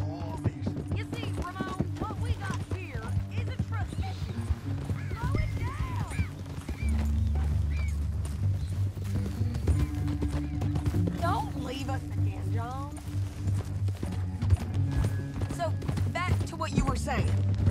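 Horse hooves clip-clop at a steady walking pace in the Red Dead Redemption 2 video game, a continuous rhythmic clatter under a voice, with game music and ambience in the background.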